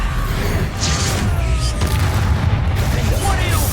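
An Expulso spell explosion in Hogwarts Legacy lands as a heavy booming blast with rumbling debris, loud and close, and a voice calls out at the start.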